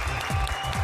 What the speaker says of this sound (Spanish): Un aplauso, por favor, para Vero Flores.